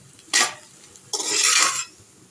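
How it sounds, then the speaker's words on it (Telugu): Puffed rice is mixed in a bowl, making two rustling, crunchy bursts: a brief one and then a longer steady sweep, close and fairly loud with faint clinks; no voices. "మరమరాలకి తగిలేటట్లుగా అంటేటట్లుగా కలుపుకోవాలి"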